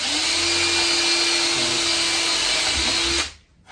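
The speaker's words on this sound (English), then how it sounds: "before putting any bits of wood together and putting screws through, I'm going to drill some pilot holes" A power drill boring pilot holes in wood for building drawers under the stairs, one loud, steady high whine lasting about three seconds before it cuts off abruptly, close up with no talking.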